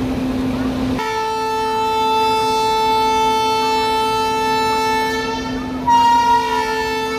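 A long, loud locomotive horn blares steadily at close range on the Guntur–Repalle branch line, holding a sustained multi-tone chord for several seconds before shifting pitch briefly near the end; no talking.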